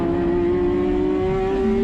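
Race cars on the opening lap at One Raceway in an Improved Production event, a loud, close, sustained engine drone with a steady high pitch that shifts slightly near the end.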